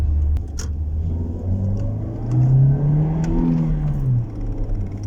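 A Toyota Corolla 1.6 engine revs and rises in pitch, holding a loud, close rumble before easing back, with no talking.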